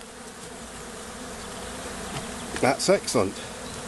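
A honeybee swarm hums as a steady, low insect drone throughout, with a voice speaking briefly near the end.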